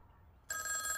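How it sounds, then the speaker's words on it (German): Telephone ringing in the Die drei ??? detective video game, a bright electronic bell trill that starts abruptly after a near-silent pause and continues steadily. "Telefon."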